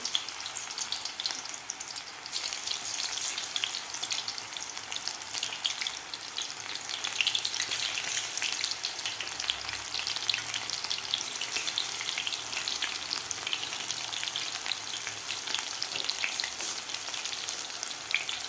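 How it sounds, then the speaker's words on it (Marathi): Soybean chunk pakoras deep-frying in a kadhai of hot oil over medium heat, a steady, dense crackling sizzle that holds evenly throughout with no voices. "आता आपल्याला हे क्रिस्पी होईपर्यंत हे तळून घ्यायचं आहे"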